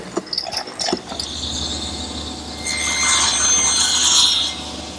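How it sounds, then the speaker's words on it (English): Sandpaper works across the top of a wooden outdoor planter post: scratchy rubbing strokes at first, building into a louder, steady scrubbing in the second half, close up. "Now we'll just sand the very top."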